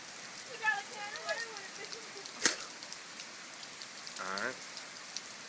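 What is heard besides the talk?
rain falling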